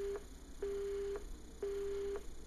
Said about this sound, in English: Shut up, you stupid phone. Pick up the damn phone already.